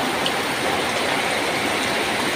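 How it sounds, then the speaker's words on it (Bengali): Steady rain falls outdoors, a continuous soft hiss of drops with an even, moderate level and no voices. "দেখেন কি সুন্দর বৃষ্টি"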